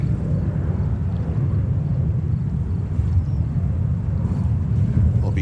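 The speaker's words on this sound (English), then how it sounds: "Now, Lufthansa on final approach, runway 31 right, the new livery" A Lufthansa airliner in new livery, flight 410 from Munich, on final approach to runway 31 right at New York JFK: a steady, low, broad rumbling roar that holds fairly constant and distant throughout, with no speech.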